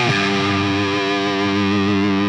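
A distorted electric guitar sustains a thick, buzzing chord with effects, loud and steady for a couple of seconds, heard alone with no talking.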